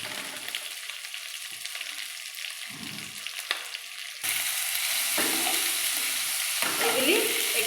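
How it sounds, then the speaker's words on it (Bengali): Two small chopped tomatoes sizzle in a pan for Kolkata-style egg biryani, with a few stirring clatters, and the frying hiss grows louder and steadier partway through. "এবার আমি এইভাবে কেটে রাখা 2টো ছোট ছোট টমেটো দিয়ে দেবো"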